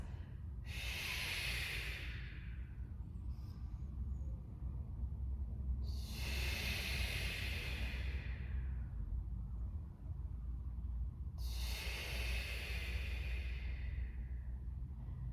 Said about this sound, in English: Take a few of these breaths.